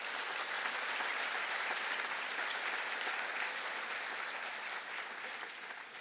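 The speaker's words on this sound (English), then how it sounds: "Let's give a big round of applause for our distinguished guests." Steady applause from a large crowd at a graduation ceremony fills the space, a dense continuous clapping that holds for several seconds and fades slightly at the end.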